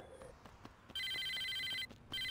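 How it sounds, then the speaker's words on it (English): A cell phone rings in Saints Row 2, an electronic ringtone in two bright repeated bursts separated by a short gap, heard over quiet game background. "I don't want to answer my cell phone."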